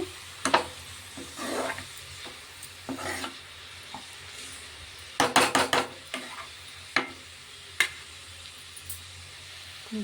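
Tomato and curry leaves fry in a pan with a low continuous sizzle, punctuated by repeated metallic scrapes and clinks of a spoon against the pan, close and clear without talk.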